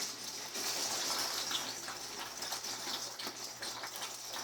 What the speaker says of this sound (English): I'm gonna pour in my shells here.